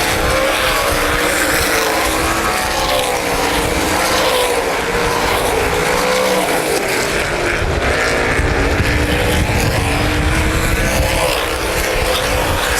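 Sprint cars roaring around the Baer Field Speedway dirt oval during the Hoosier Outlaw Sprint Series race, a loud continuous engine drone with shifting pitch as cars run side by side.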